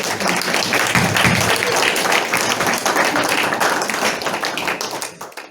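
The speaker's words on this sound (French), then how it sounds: "Je vais vous demander d'applaudir Dieu parce qu'il est là." A church congregation applauds together, a dense steady wash of clapping that holds for about five seconds and then fades out.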